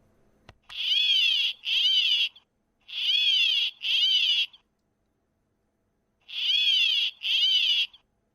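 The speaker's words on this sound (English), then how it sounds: "California Gnatcatcher." A California Gnatcatcher gives harsh, mewing calls in paired bursts, three pairs of rasping notes separated by brief pauses, close and loud with no other sound.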